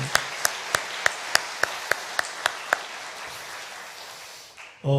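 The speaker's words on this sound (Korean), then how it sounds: "우리 단기 선교사님들 위해서 박수 한번 합시다." A church congregation at a Korean Wednesday dawn service claps together, a steady run of about ten sharp, evenly spaced claps, then the sound cuts off into a brief low noise at the end.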